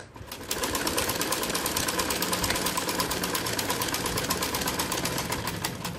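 A sewing machine stitching a salwar runs fast and continuously at close range, a loud, even mechanical chatter that starts after half a second and holds steady to the end.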